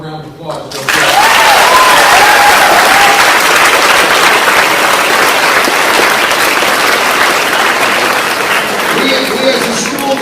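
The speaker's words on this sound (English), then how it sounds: "give her a round of applause" Loud, sustained applause from a school assembly crowd, steady dense clapping that starts abruptly and fills the whole stretch with little variation.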